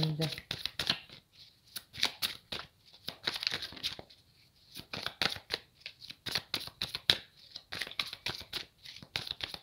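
Tarot cards are shuffled for a reading in quick, crisp riffling bursts, close and fairly quiet, separated by short pauses, with a voice speaking in the background.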